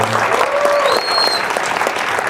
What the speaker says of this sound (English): Just another round of applause for Rooney.